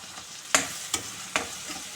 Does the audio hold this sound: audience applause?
no